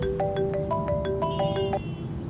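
A mobile phone ringtone plays a bright, repeating melodic pattern of clear electronic tones, steady and fairly loud for about two seconds, with no one speaking.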